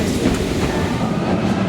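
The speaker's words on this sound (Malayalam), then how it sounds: "ഞങ്ങൾ പ്ലാറ്റ്ഫോമിലേക്ക് ചെല്ലുമ്പോൾ തന്നെ ഒരു ട്രെയിൻ കടന്നു പോകുന്നുണ്ട്" A Vienna metro train rushes past an underground platform, a loud, steady rumble and roar of rolling wagons filling the whole short stretch with no voices.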